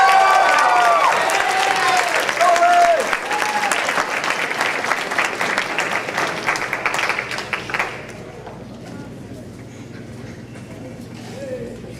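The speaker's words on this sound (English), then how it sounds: "let's give them all another round of applause" A school band awards audience claps steadily in a dense, loud round of applause that thins and fades after several seconds, leaving a quieter room.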